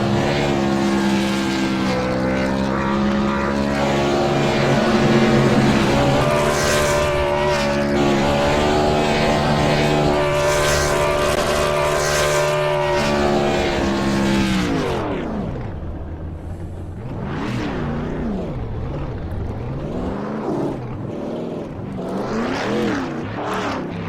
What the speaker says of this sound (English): So Chris gives us his burnout.